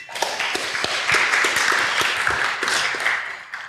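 An audience in a lecture hall claps for speaker Ralf Lang at the start of a talk, a few seconds of close, dense applause with sharp individual claps that holds steady and then thins out.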